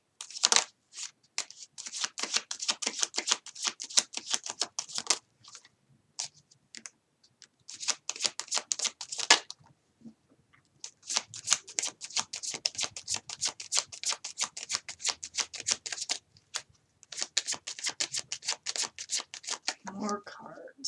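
Tarot cards shuffled by hand for a reading, a long run of crisp riffling and flicking bursts with short pauses between, close and fairly steady, with a voice briefly near the end.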